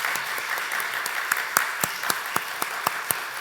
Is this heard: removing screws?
no